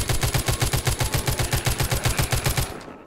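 Rapid automatic gunfire in the zombie shooter The Walking Zombie 2 rattles off as a long, even burst of about twenty shots, loud and close, before cutting off abruptly.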